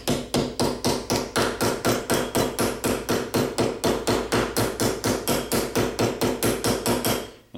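A hammer strikes sheet metal in a quick, even rhythm, about four blows a second, crimping the flange of a rib. The sharp metallic blows are close and alone.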